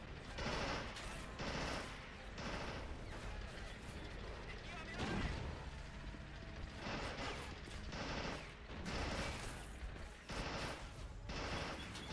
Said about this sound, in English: It's a heavy machine gun that's coming up on the field.